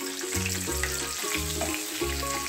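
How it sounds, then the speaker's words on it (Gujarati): Paneer cubes frying in hot oil in a pan for shahi paneer, with a steady sizzle running the whole time beneath melodic background music. "ગરમ થઈ ગયું છે, હવે પનીર નાખવાનું."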